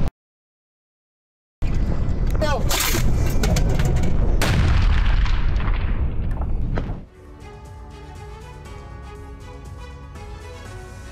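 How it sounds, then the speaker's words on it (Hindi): High-explosive mortar shelling at Robotyne lands in a rapid run of heavy, close booms that roll together for several seconds after a sudden start. The blasts then fade into a lower, steadier rumble. "रोबोटाइन में रूसी सेना ने मोर्टार हमला किया है। हाई एक्सप्लोसिव शेल से रूस की गोलाबारी देखने को मिली।"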